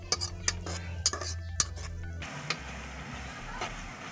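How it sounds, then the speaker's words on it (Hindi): Chopped green chillies are stirred in a pan for a potato, carrot and peas curry, with repeated sharp spatula clinks against metal over a faint sizzle, quieter and sparser toward the end. "अभी हम इसमें कटी हुई हरी मिर्च डालेंगे। इसको अच्छे तरीके से भूनना है।"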